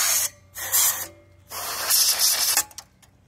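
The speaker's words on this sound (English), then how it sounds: "I'm just gonna start dusting this off." Compressed-air spray dusting parts of a Dell Optiplex 380 computer in several loud close hissing bursts, each lasting about half a second to a second, separated by brief pauses.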